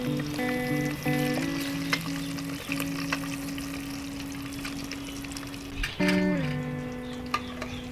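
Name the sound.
frying eggs in oil, then taking them out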